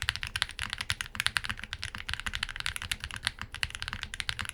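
Fast, continuous typing on an Iqunix Tilly 60 mechanical keyboard fitted with PE foam, a close stream of crisp, marbly key clacks in an uneven rhythm with no voices.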